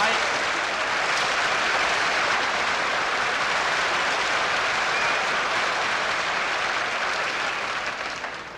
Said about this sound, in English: All applause is gratefully received.